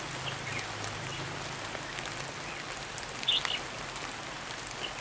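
Heavy storm rain pours down steadily outdoors, a dense even hiss of drops striking surfaces at moderate distance, with a brief faint chirp in the middle and no voices.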